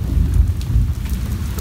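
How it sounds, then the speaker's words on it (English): Heavy rain pouring steadily during a violent thunderstorm, a dense low roar with deep thunder rumbling underneath, continuous and close, with no voices. "This is one of the craziest storms I've ever seen."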